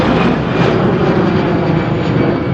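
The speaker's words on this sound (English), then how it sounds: "One more Ryanair to get in" A Ryanair airliner's engines roar loudly at an airport, a broad continuous rumbling drone that stays steady and close for the short stretch.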